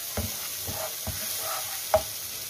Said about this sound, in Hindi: और इसको हम अच्छे तरीके से भुनाई कर लेंगे मसाले की।